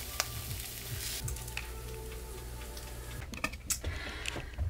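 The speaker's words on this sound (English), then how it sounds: "My poor eggs did not want to flip correctly." Eggs frying in a pan for breakfast, a quiet steady sizzle with a few soft clicks and scrapes of utensils against the pan, close and continuous.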